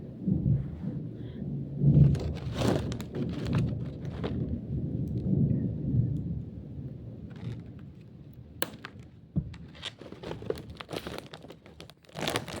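Low rumbling thunder rolls through a steady patter of rain, with a few sharp crackles near the end; no one speaks.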